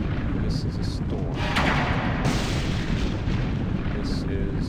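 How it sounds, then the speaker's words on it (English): Storm in The Elder Scrolls III: Morrowind, a constant heavy rushing roar of wind over a low rumble, with brief bright gusts and clicks rising out of it. "This is a storm."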